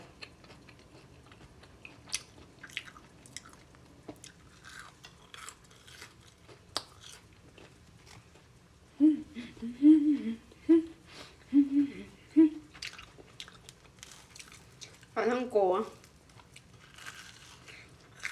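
Crispy fried dough sticks made from pizza dough are chewed up close, producing clusters of crunchy bites and mastication sounds in intermittent bursts, with a soft humming voice briefly present among the crunching.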